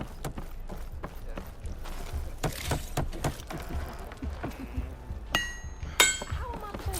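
Metallic hammer taps and clinks inside Horizon Forbidden West, a string of light strikes and chinks with footsteps mixed in, ending in a couple of brighter ringing hits near the close.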